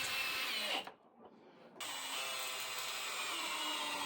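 A power drill drives screws into a wooden vise jaw on a simple shave horse build, whirring steadily and close, with a brief pause before the motor spins up again.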